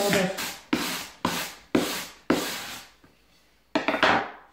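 An iron wire brush scrubs along the grain of a wooden strip, giving five sharp, scratchy strokes in quick succession, a short pause, then one more, close and distinct with no talking.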